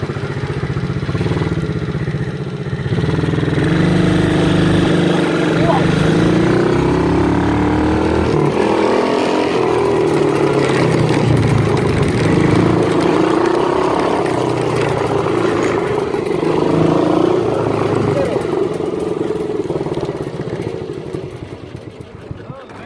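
A quad bike engine runs and idles close by for a long stretch, a loud continuous throaty drone with shifting revs and some mechanical clatter, while a person talks over it.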